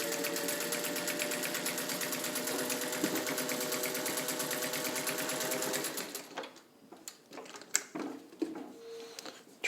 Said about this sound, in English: You have to have a very specific industrial machine to sew very stiff leathers or any other material that has a board-like stiffness